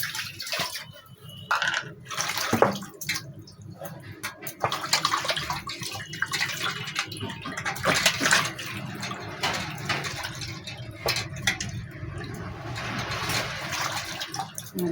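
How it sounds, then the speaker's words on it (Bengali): Tap water runs steadily over four tomatoes being washed in a kitchen for an okra and tilapia mustard curry, a continuous splashing stream with fluctuating intensity, close by, with no talk. "চারটে টমেটো নিয়েছি ভেন্ডির জন্যে আর মাছের জন্য ভালো করে ধুয়ে কেটে নেব"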